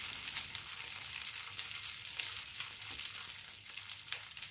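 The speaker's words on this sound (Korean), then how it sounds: "팬에 기름을 두르고 떡을 올려 구워주세요." Rice cakes frying in hot oil in a pan give a steady, loud, close sizzle with fine crackling throughout and no voices.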